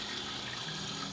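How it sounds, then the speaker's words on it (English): Water runs from a kitchen tap into a container, a steady close rushing splash for about a second with no voices. "So next up we're gonna fill it up with water and mix it."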